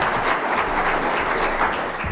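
Warm audience applause at an academic book lecture in Singapore, a dense, even wash of many hands clapping at once, steady and close, with no voices over it.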